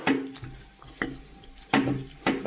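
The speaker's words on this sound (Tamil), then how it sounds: "நல்ல வடிவாக கிழங்கு அரிஞ்சிட்டு இதை நாங்கள் மசிச்செடுப்போம்" Boiled cassava mashed in a bowl, several separate clunks and scrapes of a utensil against the bowl spaced irregularly, fairly close and quiet.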